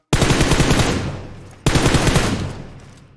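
Two loud, close bursts of automatic rifle fire in the PUBG Mobile shooter game, each a rapid rattle of shots that tapers off, separated by a brief pause.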